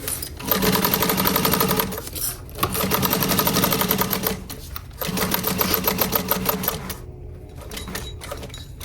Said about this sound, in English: Stitch all the way across my bottom